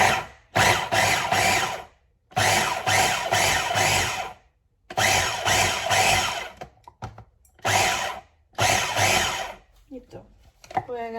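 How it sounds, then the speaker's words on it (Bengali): An electric blender grinds bread into breadcrumbs, running in loud repeated bursts of a few seconds each with short silent pauses between them, and a brief voice near the end. "ব্লেন্ডার অন করে দেওয়া।"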